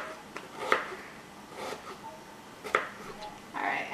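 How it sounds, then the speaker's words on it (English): Kitchen knife slicing through onions on a cutting board, a few separate chopping knocks spaced apart, close and moderately quiet against light room noise. "we're going to cut the onions now"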